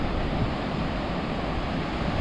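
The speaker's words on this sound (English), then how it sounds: "And there's the ocean." Atlantic Ocean surf along the Casablanca shore in Morocco makes a steady broadband wash with a soft low rumble, fairly quiet and unbroken, with no voices.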